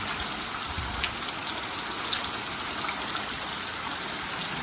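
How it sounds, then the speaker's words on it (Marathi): Heavy monsoon rain pouring into a flooded village courtyard during Ganesh Chaturthi, a steady even hiss of water, fairly faint and distant, with a few soft drips popping out. "सकाळी मॉर्निंग पासून जो पावसाने जोर लावलाय ना, बापरे, आमचं अंगणही भरून गेलं"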